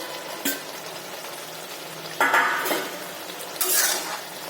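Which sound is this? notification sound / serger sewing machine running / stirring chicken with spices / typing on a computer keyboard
stirring chicken with spices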